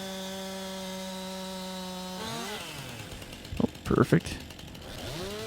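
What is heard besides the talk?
chainsaw trimming a tree in Farming Simulator 19 video game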